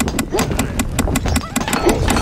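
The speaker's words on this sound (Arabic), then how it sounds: "الحصان سريع." Horse hooves beat a quick, steady rhythm in the Stronghold Crusader strategy game, close and fairly loud, with a low hum of game background sound running underneath.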